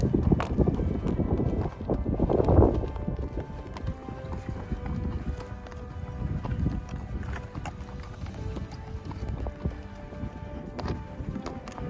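Horse hooves clip-clop on a rocky trail in Hell Canyon in the Black Hills, South Dakota, an uneven stream of close, hard knocks and scrapes with wind and rustling around them.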